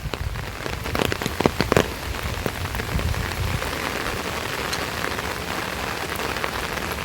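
Steady monsoon rain pours down on surfaces at Jhaluarber rail station, with a few sharper drips and splatters standing out early on against the constant hiss.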